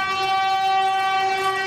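A passenger train sounding its loud, sustained horn at a busy railway crossing in Izhevsk, a steady multi-tone blast held throughout, close and dominant.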